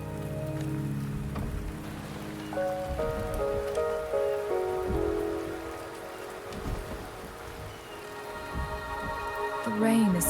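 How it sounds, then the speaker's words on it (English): Rain falls in the video game Wuthering Waves, a light steady patter under sustained musical tones and a voice speaking over it, gradually thinning. "The rain is subsiding, and the sky will soon clear."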